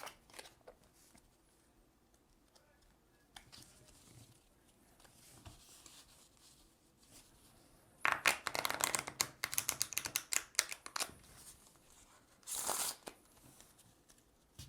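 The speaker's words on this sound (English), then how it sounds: "After that, we'll shuffle the battle cards deck." A deck of battle cards for the Sugar Heist card game is shuffled in a few quick, crisp riffling bursts after a stretch of quiet, with one last short riffle near the end.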